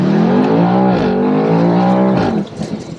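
A 2023 BMW M850i xDrive convertible accelerates hard, its engine note climbing in pitch through two upshifts before easing off near the end, loud and close with no talk.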